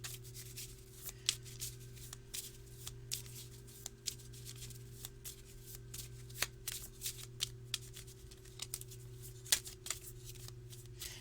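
Lenormand cards being shuffled and cut by hand, a steady close riffle of soft card flicks and rubs with a low steady hum beneath, continuing alone without talk.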